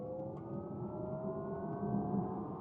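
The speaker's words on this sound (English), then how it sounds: "It's also enhanced by a virtual engine sound, which you can switch off." Synthetic virtual engine sound of a Brabus smart #3 electric car under acceleration, a steady rising tonal hum with a faint whir, continuous and moderately quiet, with no talking.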